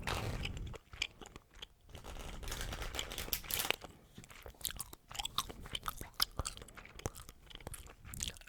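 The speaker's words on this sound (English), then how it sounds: "what I'm gonna do is give this deck a good shuffle" A deck of playing cards is shuffled close up in a quiet room, a dense run of crisp riffling clicks and crunchy card flutters over several seconds, with soft gum chewing mixed in.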